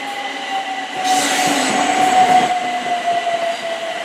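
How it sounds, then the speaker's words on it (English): A British Rail Class 455 electric train departs Clapham Junction with a loud, close rumble, a steady whine and wheel squeal that swell mid-way before easing slightly as it pulls out. "455-737 just departed as well."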